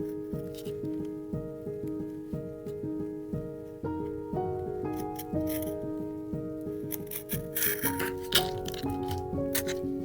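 Scissors trim excess material from a handmade book with a run of close, crisp snips and crunches, while soft music plays underneath.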